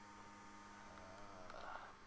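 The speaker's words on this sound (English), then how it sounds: "It's my PC fucking going crazy." A computer running loudly, giving a steady, faint electrical hum with a low buzzing drone throughout and no speech.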